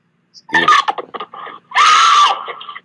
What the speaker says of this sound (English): A young woman screams for her life and fights off a man in this video